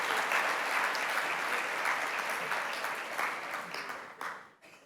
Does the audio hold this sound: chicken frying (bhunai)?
no